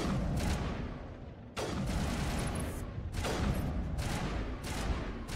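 Sniper rifle fire in the Mass Effect 1 video game: a few separate loud cracks, each followed by a decaying tail, over steady background game noise.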